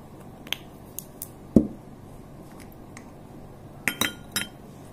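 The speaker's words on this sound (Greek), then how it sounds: "Ανακατεύουμε." Vodka being stirred with salt in a glass, a spoon giving sparse, sharp clinks against the glass, one louder knock and a quick cluster of taps near the end, close and otherwise quiet, with no talking.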